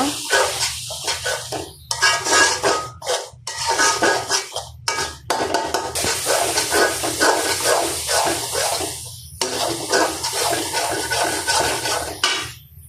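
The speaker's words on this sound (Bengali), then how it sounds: "হলুদ দিলাম, মরিচ, মিট মশলা, লবণ। ভালো করে কষিয়ে নিব।" Turmeric, chili, meat masala and salt fry in a pan as a spoon stirs them, with repeated scraping and metal clatter over a steady sizzle, close and fairly loud, broken by short pauses.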